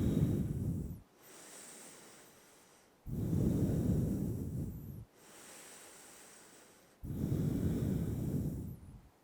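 Three long bursts of deep breathing held during a yoga balance pose, with slow, breathy inhales and exhales close to the microphone, separated by quieter pauses.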